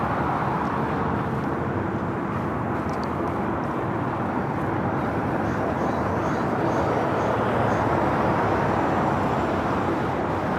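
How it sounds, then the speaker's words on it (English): An Aloha Air Cargo Boeing 767-300ER, a converted freighter arriving at LAX, roars overhead as a loud, steady, broadband rumble that holds evenly for about ten seconds with no talk over it. "We do have an Aloha Air Cargo converted 767-300ER should be flying directly over us."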